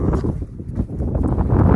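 Wind buffets the microphone outdoors on a trail near a campground, a loud, steady low rumble and roar with gusty surges throughout the short stretch, with no talk.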